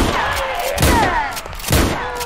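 Gunfire in a modded Minecraft zombie war game, with two sharp bursts of shots over a busy, noisy game background.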